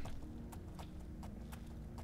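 A horse's hooves clip-clop at a steady walking pace in The Elder Scrolls IV: Oblivion, about seven or eight crisp, evenly spaced hoof strikes over a low ambient game hum, no talking.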